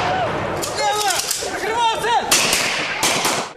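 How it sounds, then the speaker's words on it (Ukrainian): Gunfire from a police demonstration in the school yard of the Rivne Economics and Law Lyceum: several sharp, loud cracks spread across the moment, ringing out over people talking. "Стрілянина просто у дворі Рівненського економіко-правового ліцею."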